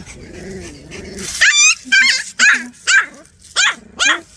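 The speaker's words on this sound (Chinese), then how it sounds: "不过它那个叫那个声音可不像那么小的小狗。" A tiny puppy lets out a run of loud, sharp, high-pitched barks, about six in quick succession, close by after a softer whine.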